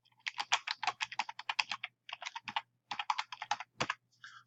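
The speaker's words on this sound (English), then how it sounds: "then come down in the text box and type" Someone types a message on a computer keyboard, a close run of rapid key clicks in bursts separated by short pauses, with no speech over it.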